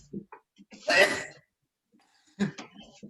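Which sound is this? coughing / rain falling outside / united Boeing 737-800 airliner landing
coughing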